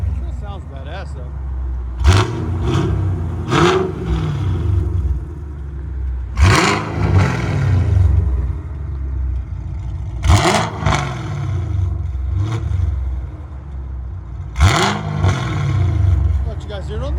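Lumpy idle from a cammed 2016 Chevy Camaro SS 6.2L V8 running Hooker long tube headers and exhaust with no cats, punctuated by four hard revs spaced several seconds apart, close and loud.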